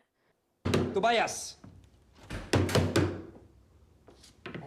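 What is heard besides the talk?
banging on a locked door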